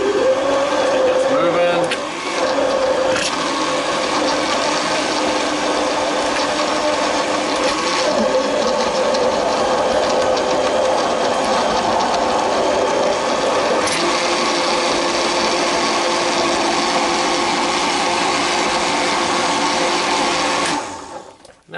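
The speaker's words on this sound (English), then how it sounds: "So mixing this in blender was definitely the most difficult part" A countertop blender whirs steadily, blending fruit with a little added water to a smoothie-like purée for fruit leather; the loud, continuous motor drone runs nearly the whole time, with a brief spoken remark near the start, then stops abruptly at the end.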